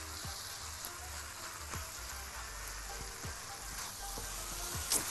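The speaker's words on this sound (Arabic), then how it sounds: "هقلب" A pan of shrimp pasta filling sizzles softly and evenly while a spoon stirs it, scraping the pan in a few brief, regular strokes.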